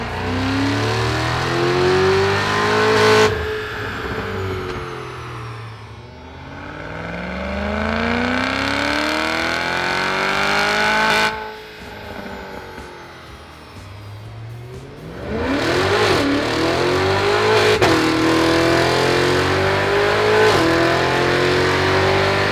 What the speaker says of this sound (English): let's see some dyno runs